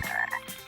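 A frog gives a short pair of croaks, a rough nasal call followed by a second brief burst, close and alone with no other sound.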